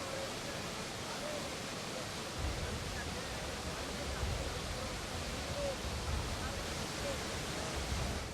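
Flooded Ghataprabha river roaring in Karnataka monsoon rains, a dense unbroken rush of water filling the scene, moderately distant and steady with slight surges.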